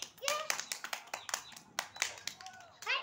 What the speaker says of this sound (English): Claps. Claps.